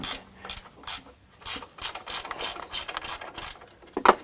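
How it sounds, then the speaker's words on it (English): A gear wrench ratchets in short bursts while strut nuts are loosened during a suspension install on a Lexus GX or Toyota 4Runner, with several rapid clicking runs separated by brief pauses, close up. "so these gear wrenches sure make it easy"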